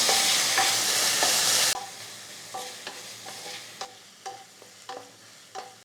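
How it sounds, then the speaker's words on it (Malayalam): Thinly sliced tomato sautés in a pan for a pea curry, giving a loud continuous sizzle at first, then quieter frying broken by a series of sharp scraping stirs at an irregular pace. "ഇനി തക്കാളിയും കൂടെ നല്ലതായിട്ടൊന്ന് വഴറ്റാം"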